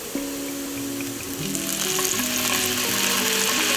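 Balsamic vinegar hits a hot frying pan where tilapia is being cooked with lemon, giving a loud, steady sizzle and crackle that holds at full strength from start to finish, with no voices.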